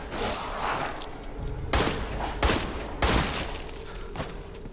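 Heavy shotgun blasts in the survival-horror game Resident Evil Village, several loud booming shots spaced a second or so apart over a murky background, no talk.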